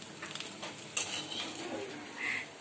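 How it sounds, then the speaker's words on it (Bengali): Bhuna rice cooks in a pan with a soft frying sizzle under a few light scraping and clinking stirring sounds, fairly close, and a brief faint chirp near the end. "আমাদের রেহান আজকে রান্না করতেছে, আঞ্জুমের জন্য ভুনা ভাত রান্না করতেছে।"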